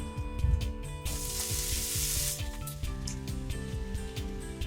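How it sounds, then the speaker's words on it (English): Sauerkraut cabbage hitting hot leftover fat in a pan, a loud continuous sizzle that flares sharply for a second or two, then settles into steady frying under a background of tonal music, with no voices. "Put the pan with some of the fat that you still have in the pan and add the cabbage."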